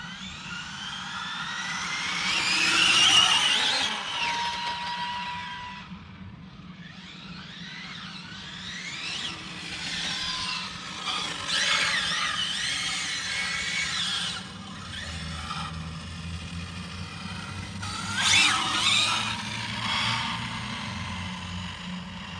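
An ARRMA Infraction RC car with a Hobbywing Max6 1650kv motor screams through repeated high-pitched runs, its whine rising and falling as it passes near and far.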